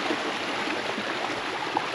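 Fresh stream water flowing through the Alfarja ravine, with pools along the route: a steady, broad rushing and gurgling close by, continuous and even, with no voices.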